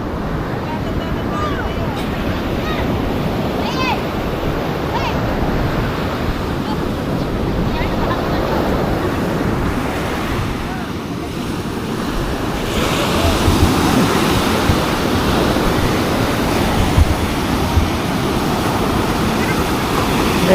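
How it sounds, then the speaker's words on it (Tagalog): Large ocean waves crash onto the shore in a loud, continuous roar of surf, with wind buffeting the microphone and the surge swelling stronger in the second half. "Sobrang laki ng alon."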